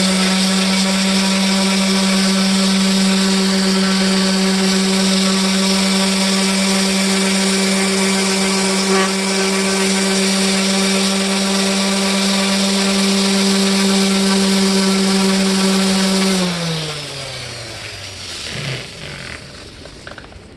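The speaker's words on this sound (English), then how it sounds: "There's no need to really push the sander down with force." Electric sander running steadily and loudly on an outdoor kitchen cabinet carcass, a constant whine with a strong hum, then winding down near the end.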